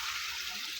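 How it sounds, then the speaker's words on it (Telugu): Water poured into a pot of goat trotters curry in a home kitchen, a steady broadband splashing rush that runs continuously through the short moment with no talk. "నీళ్ళు పోస్తున్నాము."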